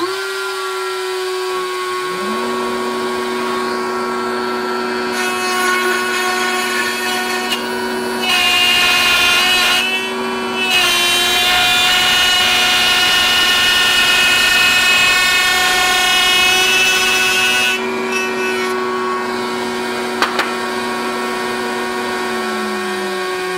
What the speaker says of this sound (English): I'll do that at the router table.